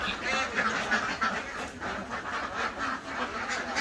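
Ducks quacking repeatedly in a busy chorus at a laying-duck farm, close and fairly loud, with a voice talking over them.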